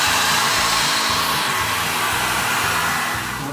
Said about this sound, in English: Now I'll just take a hairdryer.